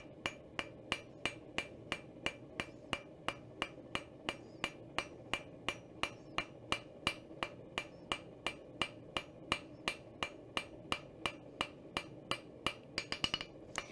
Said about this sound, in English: these particular hammer blows are called light overlapping blows or sort of planishing blows